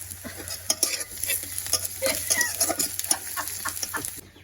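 Onions frying with meat in a pan in a home kitchen, a steady sizzle under repeated stirring and scraping clatter, with a faint bird clucking in the background.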